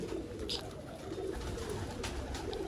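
Pigeons coo on a rooftop loft, soft repeated low burbling calls sounding close against a steady outdoor background, with a few faint higher chirps mixed in.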